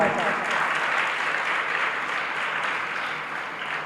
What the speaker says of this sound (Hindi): एक बार बच्चों के लिए तालियां बजाओ